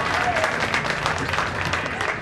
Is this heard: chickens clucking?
no